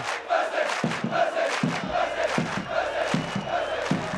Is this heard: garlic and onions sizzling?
no